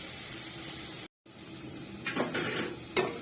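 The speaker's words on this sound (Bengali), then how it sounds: "আলুগুলো খুব সুন্দরভাবে ভাজা হয়ে গেছে। এবার আলুগুলোকে আমি তুলে দেবো।" Fried potatoes being lifted out of hot oil in a pan give a soft continuous sizzle, broken by a brief dropout, then scraping and clinking of a spatula against the metal pan.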